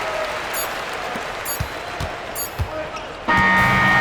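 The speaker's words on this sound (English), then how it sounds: "So the home crowd happy here as they get the victory." Crowd applause and cheering in the basketball video game NBA 2K26 after a home win, a steady loud roar with a few ball bounces and thuds, swelling louder toward the end.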